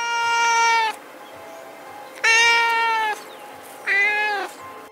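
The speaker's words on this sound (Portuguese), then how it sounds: "era só um miado" A cat meows three times in a dark bedroom at night, each call long, clear and drawn out with pauses between, fairly close and alone against a quiet background.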